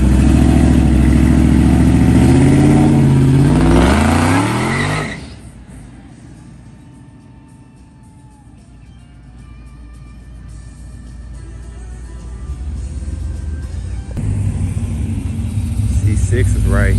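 A Shelby sports car revs its engine hard at a car meet. The loud, close roar climbs and falls through several rising revs, drops to a low idle rumble, then swells again toward the end, with voices around it.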